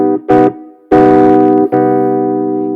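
A minor chord with an added major seventh as a third note over a bass played low, sounds in a short phrase of two brief notes and then a loud sustained chord ringing out, with no talking.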